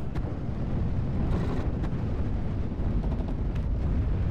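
Rumbling cannon fire from Panther tanks against an M10 in the World War II strategy game Steel Division: Normandy 44, heavy booms and distant battle noise rolling continuously at steady loudness, with sharp reports cutting through around the middle and near the end.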